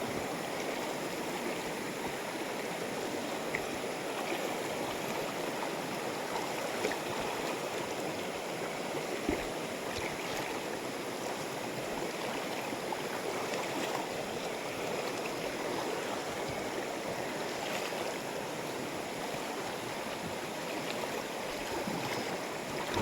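Water in a shallow stream swirls and splashes steadily while someone wades across it at night in the countryside, with a constant close rushing and no voices.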